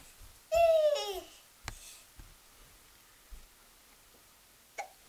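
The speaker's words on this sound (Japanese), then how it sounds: "しゃっくりしてる。" A little boy hiccups indoors: a short voiced yelp-like burst near the start, then a few faint, sharp catches spaced apart over a quiet background.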